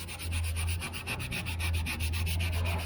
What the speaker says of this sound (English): now we're going to go over with some 400 grit on a rubber block